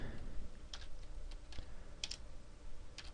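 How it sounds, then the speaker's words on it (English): Quick bursts of keystrokes on a computer keyboard, close and fairly quiet, with short pauses between small flurries of clicks. "pretty sure you can all figure out what I'm typing here."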